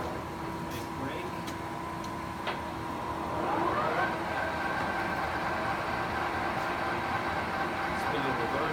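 A 1981 Summit 32-inch by 20-foot engine lathe spindle braking to a stop, a steady machine hum whose pitch glides and shifts midway as the large spindle slows, with faint clicks and a voice speaking briefly over it.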